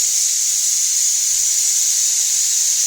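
A pressure cooker in a home kitchen releasing steam, a loud, steady high-pitched hiss that runs unbroken for the whole stretch with nothing else audible.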